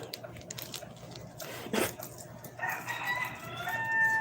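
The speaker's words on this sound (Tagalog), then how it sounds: "Marami kaming alagang manok." Fighting cocks kept in a Philippine yard crow and cluck at a moderate distance, a short crow rising from quiet background noise, with faint scattered sounds around it.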